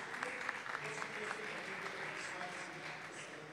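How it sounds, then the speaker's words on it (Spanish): An audience at a social entrepreneurship event on smart cities gives steady, dense applause, a sustained wash of clapping from a crowd indoors. "Bienvenida, un fuerte aplauso,"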